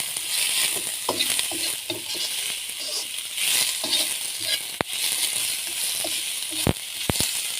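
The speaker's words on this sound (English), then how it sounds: "to help my onions in sauteing well." Onions sauteing in a skillet, a steady close sizzle and crackle with occasional soft stirring scrapes and a couple of sharp knocks near the end.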